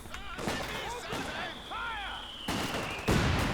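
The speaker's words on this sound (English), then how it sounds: "Ooh, nasty mortar shell." Mortar shells and gunfire in Company of Heroes 2 land amid a busy battlefield, with several sharp blasts, the loudest bursting near the end, mixed with voices and radio chatter.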